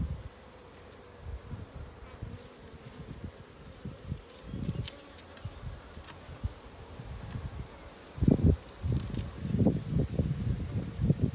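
Honeybees buzz around an open hive during an inspection of a swarm, a faint continuous drone with intermittent louder rustling and handling noises close by, no talking.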